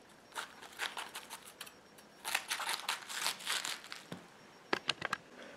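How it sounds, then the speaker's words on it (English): A knife slices a small cabbage into thin shreds, giving bursts of crisp crunchy cuts in quick clusters, fairly close and quiet, with a few sharper chops near the end. "first thing we want to do is cut our cabbage into thin slices"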